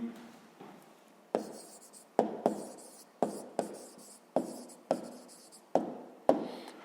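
A pen writes an answer in a notebook during a sixth-grade maths exercise, scratching in short bursts of strokes with pauses between them, close and fairly quiet, with no one speaking.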